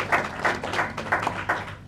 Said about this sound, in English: You gotta give yourself a round of applause.